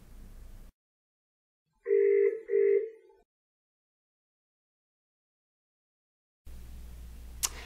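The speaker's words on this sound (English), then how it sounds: "dial back into the system here so I can show you what RealPresence Group Series can do" Polycom RealPresence Group Series video conferencing system dialing a call, giving two short electronic tones in quick succession that sound alone in otherwise silent audio, followed by low room noise.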